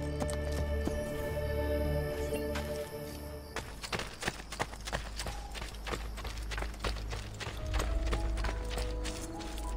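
Horse hooves clip-clop in the video game Assassin's Creed Brotherhood, a quick, fairly loud rhythmic clatter of galloping horses that starts a few seconds in, over low rumbling game music and ambience.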